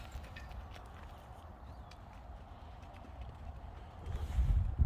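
Horse hooves clip-clopping in a steady walking rhythm during a riding lesson, fairly faint and distant at first, then growing louder and closer toward the end.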